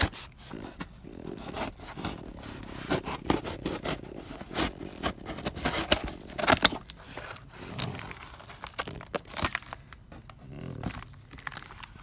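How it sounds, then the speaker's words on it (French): A BMW E36 chassis part is unpacked from a cardboard box: close, uneven bursts of cardboard scraping, tearing and crinkling of packing material, with rustles and handling knocks. "Et du coup ben ça c'est dans ce carton. Donc comme d'hab on va déballer ça ensemble"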